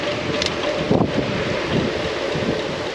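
Outdoor wind gusts through trees, a steady broad rushing roar with microphone buffeting swelling briefly in places.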